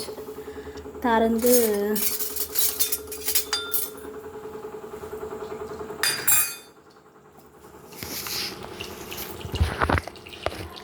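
A spoon or masher scrapes and clanks against a metal pot while mashing cooked greens in a busy kitchen, with running water and clinking dishes around it.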